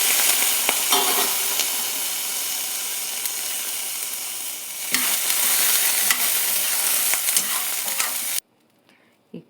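Curry leaves hit hot oil with browning toor dal for a traditional Karnataka chutney, giving a loud, steady crackling sizzle with occasional stirring scrapes. The sizzle cuts off abruptly near the end, leaving near silence.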